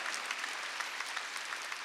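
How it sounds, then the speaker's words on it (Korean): Congregation clapping during a Sunday church service, a dense, even roll of many hands applauding together, steady and moderately loud for about two seconds with no voices over it. "박수 치라 이기야."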